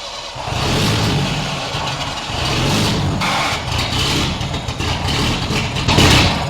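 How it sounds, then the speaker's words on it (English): A car engine catching and running after gasoline is fed in by hand, a rough, noisy burst of engine sound that holds steady with a few surges, loud and close, with no talk over it. "Right now, we manually supplied gasoline to the car and the car started."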